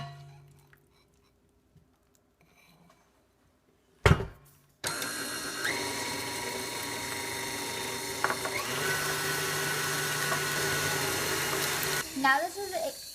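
An electric mixer runs steadily for several seconds, beating raspberry juice into butter and powdered sugar for macaron filling, a loud continuous whir after a brief clatter, with a short pause near the end.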